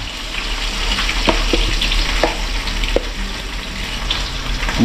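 Milkfish (bangus) frying in a pan, a steady close sizzle and crackle with occasional sharp pops and spatters, no talking over it.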